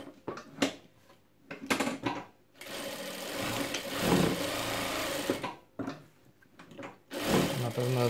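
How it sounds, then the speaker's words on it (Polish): A Jack F4 sewing machine stitches in two sustained runs of steady motor hum and needle chatter, close and loud, stopping in between for handling noises and clatter, with a voice talking in the gaps. "Jak chcemy szyć, maszyna się nam ładnie zatrzymuje, możemy sobie łatwo obrócić."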